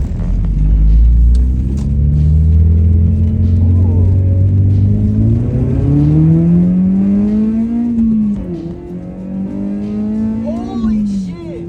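A 2006 Acura RSX Type S fitted with a Skunk2 Alpha header and Invidia N1 exhaust revs loudly and close, the engine note climbing in a long sweep and then settling back with a few more blips, with a voice faintly under it.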